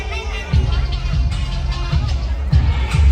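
Sunday night crowd babble on Nguyen Hue Walking Street in Saigon during a celebration, a continuous murmur of many voices with occasional nearer bumps and footsteps; someone speaks over it.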